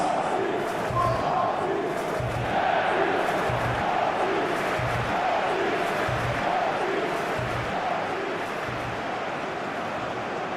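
Stadium crowd noise in a PES 2021 football game simulation between Switzerland and Colombia, a steady roar with regular rhythmic thumps like chanting or drumming throughout.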